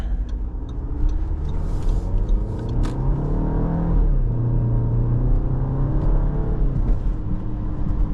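A 2016 Audi Q3 compact SUV heard from the cabin as its engine hums and rumbles steadily while accelerating, the pitch rising and dropping at a gear change midway, with no talk.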